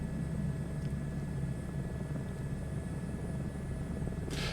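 Steady, droning helicopter rotor and engine rumble from a Microsoft Flight Simulator 2024 Grand Canyon air tour, continuous and fairly loud with no voices.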